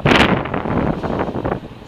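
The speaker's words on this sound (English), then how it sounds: "It's very windy today." Strong wind on a sunny day in Chicago buffets the microphone in heavy low rumbling gusts, loudest at the start and then pulsing unevenly.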